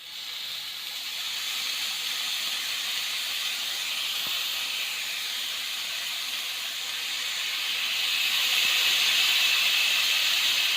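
Chicken tikka pieces sizzle on a special pan over a very low flame, making a steady, dense hiss that holds the whole way and swells slightly toward the end, with no voices.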